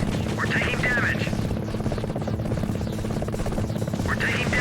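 Enemy helicopter in the PlayStation video game Gunship: steady, loud rotor thrum running throughout, with short higher-pitched radio-style chirps near the start and end.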